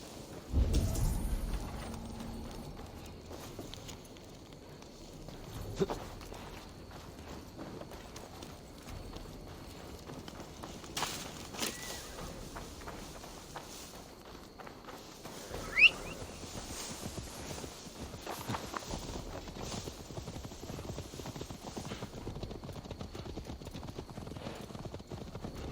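Steady clip-clop of horse hooves at a walking pace in Assassin's Creed Valhalla, with faint rain-like ambience and occasional louder thumps in the background.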